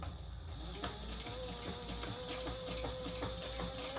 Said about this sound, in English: I'm just gonna do a little chain stitch here.